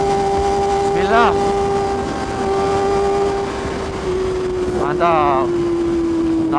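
A Kawasaki ZX25R motorcycle engine holds a steady, droning pitch while riding, with wind noise behind it and a rider's voice briefly speaking over it twice.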